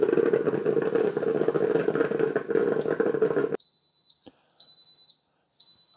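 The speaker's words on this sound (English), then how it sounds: "the 12 cup is beeping at me to let me know that it's done brewing" A Ninja 12-cup coffee maker finishes its brew with a steady gurgling hiss, which cuts off abruptly and gives way to a few short, clear electronic beeps separated by pauses.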